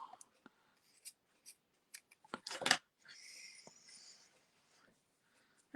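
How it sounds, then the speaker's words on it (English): Scissors snip through ribbon in a few short, crisp cuts, with quiet handling noises and a longer rustle in between, all close and fairly faint. "Actually, I'm going to cut our ribbon."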